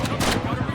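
Bandits fire guns at zombies in the video game Project Zomboid, a short crackle of shots with a soft voice over it.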